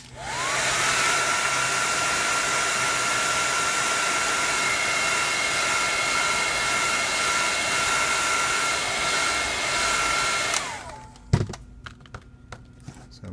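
A heat gun or hair dryer blows a steady, loud whine onto the top of a Samsung Galaxy S5 screen to loosen it, then shuts off and winds down, followed by a sharp knock and faint tapping.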